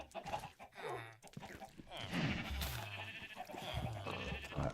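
Blocky Skyblock game animals, sheep and cows, bleating and lowing in short overlapping bursts, with clucking farm-animal noises mixed in at moderate volume; no talk.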